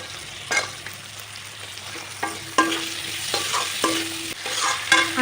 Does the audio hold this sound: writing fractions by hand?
no